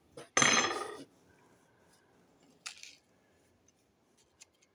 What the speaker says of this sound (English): I can pull out this tape measure and give you some idea